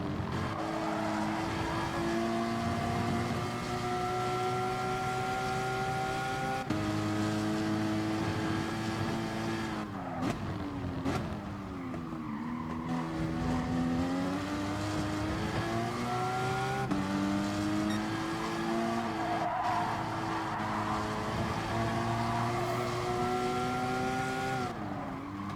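Porsche Cayman Gr.4 race cars at Laguna Seca in Gran Turismo Sport, engines droning continuously near and loud, pitch climbing and dropping through gear shifts as several cars run close together, with no talk.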